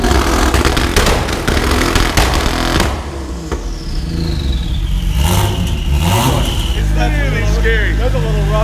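A Porsche 997 race car engine revs hard and crackles with sharp anti-lag bangs, very loud and close, as people talk over it and the revs rise and fall.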